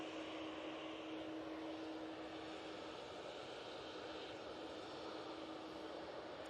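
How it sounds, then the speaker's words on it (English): A TUI Boeing 787-9 Dreamliner arriving from Cancun at Manchester Airport gives a steady, faint, distant jet roar with a constant tone held throughout, no voices. "It is the TUI from Cancun using the 787-9 Dreamliner"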